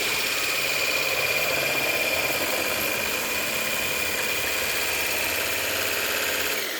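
Electric mixer whipping solidified shea butter and oil into body butter, a steady close-up motor whir with a broad, constant hum and no pauses.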